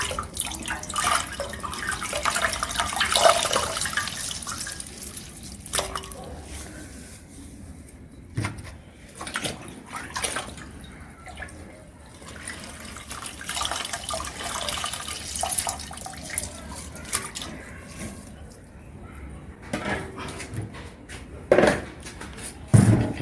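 Water splashing and dripping as four slices of bread are soaked and squeezed by hand for chicken cutlets, wet sloshing and squelching in irregular bursts with quieter pauses.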